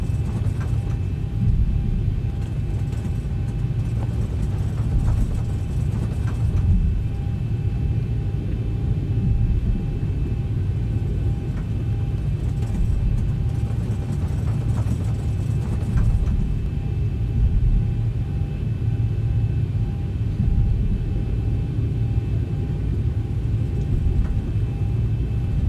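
A Boeing 737 in the X-Plane 12 flight simulator gives a constant low engine rumble and drone heard from a home cockpit, steady and fairly loud throughout with no talk.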